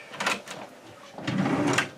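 A desk drawer in a puzzle video game is unlocked and slid open: a short click, then a soft scraping rattle, quiet and close.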